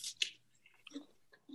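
Biting into a crunchy Granny Smith apple, a sharp close crunch followed by quieter wet chewing, faint and intimate.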